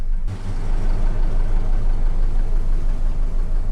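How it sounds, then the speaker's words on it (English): A diesel inboard engine on an Albin Vega sailboat idles steadily while warming up in cold weather, a loud, continuous low rumble with even throbbing pulses and no talk. "The engine has started and getting some temperature"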